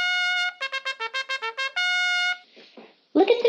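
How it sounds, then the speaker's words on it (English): Trumpet playing alone and close: a long held note, a quick run of short tongued notes, another sustained note, then a few softer breathy tones before a brighter closing blast. "A trumpet sounds like this."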